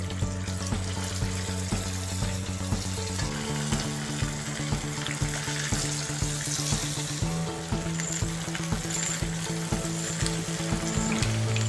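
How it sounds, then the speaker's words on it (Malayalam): Chicken pieces fry in hot oil with curry leaves, a steady loud sizzle that runs throughout with small pops and crackles, alone and close. "ഇനി നമുക്കിതിലേക്ക് ഓരോ പീസ് ചിക്കനായിട്ട് ഇട്ട് കൊടുക്കാം."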